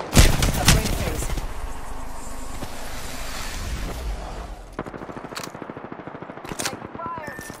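Automatic weapon fire in the shooter game Apex Legends: loud rapid bursts up close that fade to scattered shots and distant volleys, with in-game voice lines mixed in.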